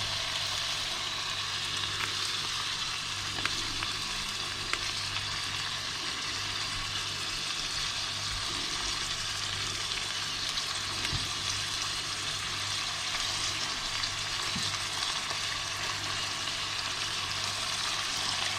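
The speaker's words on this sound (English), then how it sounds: "we're just going to keep stirring this until this mixture is cooked through" Goose broth mixture with fresh thyme cooking in a pan, a continuous soft sizzle and bubbling with occasional faint stirring clicks, steady and fairly quiet, with no talk.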